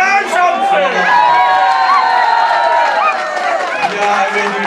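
A crowd at a Sinterklaas celebration cheers, whoops and shouts loudly, with children's voices and some clapping mixed into a dense, lively roar.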